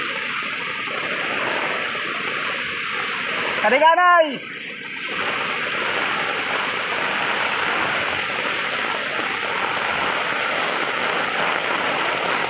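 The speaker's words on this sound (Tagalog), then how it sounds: "talaga malakas pa yung ulan" Heavy rain pours over rising floodwater around provincial houses in the Philippines, a steady dense hiss, broken midway by one sharp splash and a brief shouted exclamation from a person nearby.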